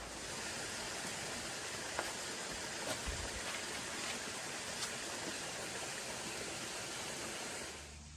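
A creek flows over a rocky trail crossing on the Mountains-to-Sea Trail in Hanging Rock State Park, making a soft, steady wash of running water with a few faint clicks and taps.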